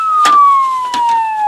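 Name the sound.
police siren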